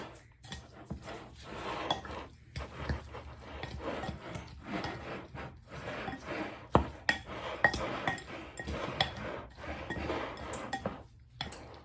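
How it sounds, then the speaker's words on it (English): Steak bites coated in paprika stirred in a bowl, with steady clinking and scraping of utensil against dish in an uneven rhythm, close and fairly quiet, no talking. "Then you are going to stir it together."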